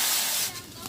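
Water poured into a hot pan while cooking hilsa fish in a village kitchen, giving a loud, close hiss and sizzle that fades quickly within a second.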